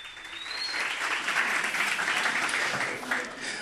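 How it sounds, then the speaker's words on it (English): A room of attendees at a Barcelona JavaScript meetup gives a round of applause, a steady, fairly close wash of many hands clapping that swells and holds for a few seconds. "A round of applause."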